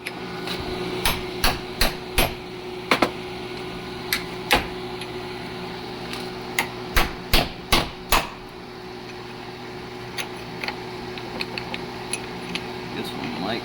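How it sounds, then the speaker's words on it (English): A chisel is hammered into a carrier bearing. Sharp metallic hammer strikes come in uneven bursts of two or three over a low hum, close and loud. "If we take a chisel in here, and we're basically be able to spread this outer edge of it"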